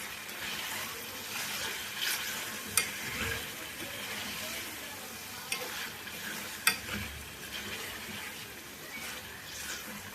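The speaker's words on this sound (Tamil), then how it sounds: "சால்ட்டுக்கு தேவையான அளவுக்கு நல்லா குக் சால்ட் போட்டு நல்லா மிக்ஸ் பண்ணிடுவோம்" Mutton pepper chukka is stirred with salt in a hot pan, a steady close sizzle and fry hiss running throughout, with soft scraping strokes and a few sharp clinks of the utensil against the pan.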